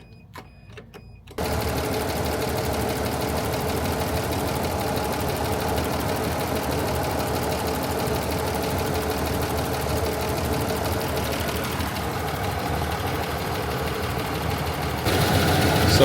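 A 3FE engine runs with its idle stuck high, producing a fast, even, mechanical chatter that holds steady and close throughout without dropping back.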